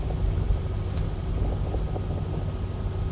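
A Robinson R66 helicopter in Microsoft Flight Simulator 2024 flies low in a gentle left turn, its steady rotor thrum and low engine rumble constant and close with no voices.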